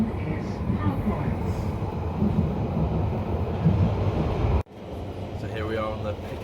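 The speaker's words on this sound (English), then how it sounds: "So here we are on the Piccadilly line" A London Underground Piccadilly line train runs along the track with a continuous loud rumble and rattle of carriages, a brief dropout partway through, then the rolling noise resumes with faint squeals.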